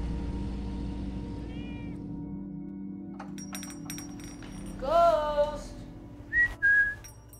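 A small white cat meows in a video game, giving a few short, rising, whistle-like mews, first a brief one and then two more near the end, over a low steady hum and faint background music.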